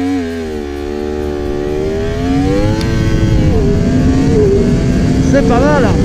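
A car engine held at about 10,000 rpm on launch control, clutch in first gear and throttle floored, drones loud and steady with rising harmonic pitch; a voice speaks over the engine noise.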